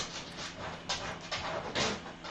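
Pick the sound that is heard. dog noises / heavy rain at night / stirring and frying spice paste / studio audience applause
dog noises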